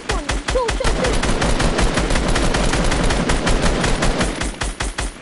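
Rapid gunfire rattles in a battle royale video game, loud dense bursts of automatic shots in fast rhythmic strings throughout, with brief player voices faintly under it.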